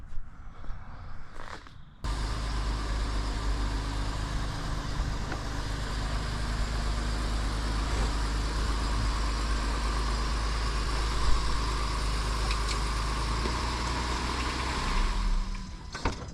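A car idles steadily as it is slowly backed a short way out of a driveway, a continuous low engine rumble that starts abruptly and holds even and close throughout, with no talking.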